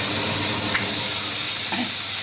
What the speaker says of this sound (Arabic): بصل عدد 2 كبار نحمسهم بالدهن